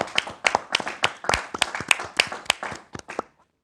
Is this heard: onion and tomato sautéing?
no